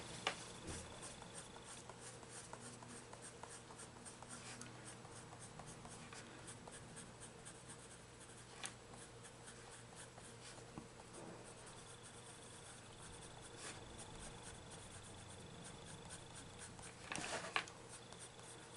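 Soft coloured pencil scratching and shading on paper, close and quiet, with a continuous fine scraping and small strokes now and then, plus a brief louder burst near the end.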